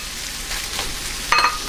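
Pork sisig simmers in a hot pan, giving a steady close sizzle and crackle with a sharper spatter near the end. No one speaks.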